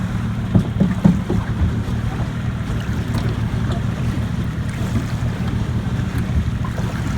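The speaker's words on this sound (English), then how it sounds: "And this is why we like a canoe here. Riding over the waves." A canoe rides over lake waves near Forrester's Island in Tyendinaga, with steady water slaps and rushing wind buffeting the microphone throughout, a few knocks early on and no talk.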